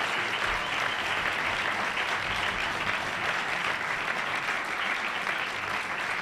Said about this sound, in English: How about a round of applause for our speaker today?